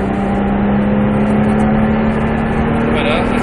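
Porsche 997 car accelerating while driving on a track, a steady loud engine drone with a constant hum throughout.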